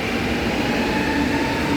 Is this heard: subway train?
yes